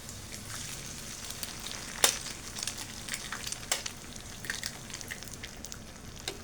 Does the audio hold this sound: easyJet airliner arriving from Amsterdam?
no